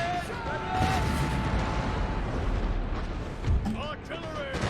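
Artillery fire in the video game Napoleon: Total War, a dense roar of booming cannon blasts and crackling gunfire from a large battle, rumbling continuously with a few sharper thuds, as voices call out above it.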